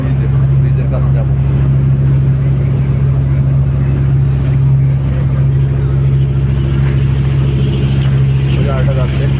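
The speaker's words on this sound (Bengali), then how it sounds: "আর ওই স্পিড বোটটা যাচ্ছে, ওই যে" A speedboat's engine drones loud and steady on the water along the way to Kural Island, with voices talking over the constant hum.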